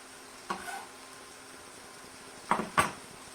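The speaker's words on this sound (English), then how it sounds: "we'll add the stems of the broccoli in, and we'll go ahead and add our garlic in" Broccoli stems and garlic dropped into a hot pan give a few short clattering thumps and brief sizzles, three quick bursts over a quiet kitchen hum.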